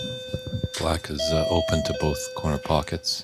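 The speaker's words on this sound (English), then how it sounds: "I do apologize for the doorbell." A doorbell chimes with sustained, steady electronic tones during a snooker match broadcast, ringing clearly under ongoing commentary from someone speaking.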